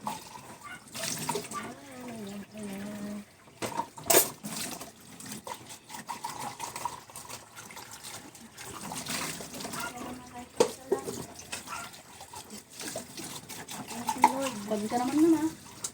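Tap water running and splashing in a sink while dishes are washed, intermittent streams and clatter at close range, with people talking over it.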